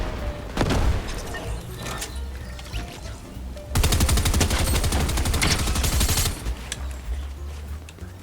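Rapid bursts of gunfire from the video game Fortnite, played on an Xbox Series S, crackle through dense firefights with a louder sustained volley in the middle, mixed with booming impacts and crashes.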